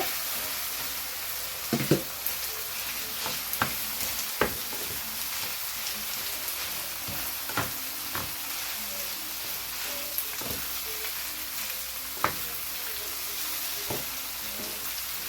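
Macaroni pasta stirred in a pan, a steady sizzle of frying with a scatter of sharp scraping and clinking strokes from the spoon, fairly close.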